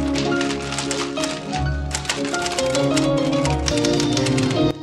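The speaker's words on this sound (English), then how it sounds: "This dude is working out with the typewriter." A typewriter is handled in the film Misery (1990), heard as dense, loud clattering keystrokes and mechanical knocks mixed with a low musical score, with no speech.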